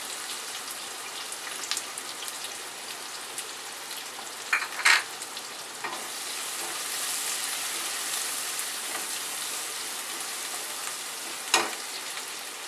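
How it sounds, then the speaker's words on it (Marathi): Chopped onion fries in hot oil with cumin and mustard seeds, giving a steady, close sizzle with a few sharp crackles and stirring clatters, and no voices. "कांदा चांगला लाल करून घ्यायचा।"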